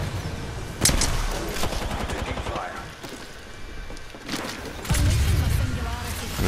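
Gunfire in the video game Apex Legends arrives as sharp shots and rapid automatic bursts, loud and close, with a quieter lull between heavy volleys and voices talking over the action.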